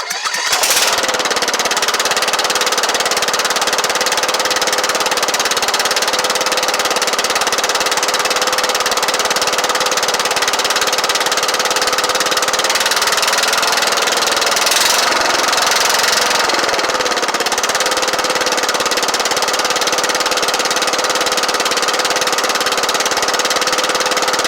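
A Kohler Courage 18 hp single-cylinder engine runs loud and close, holding a steady, rapid chugging drone with a slight shift in tone midway and no voices over it.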